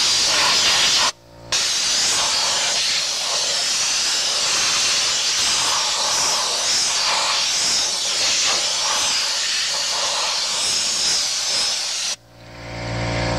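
Engine cleaning gun spraying to wash a garden tractor outdoors, a loud, sustained airy hiss of pressurized spray running nearly thirteen seconds, broken by a brief pause near the start and cutting off at the end.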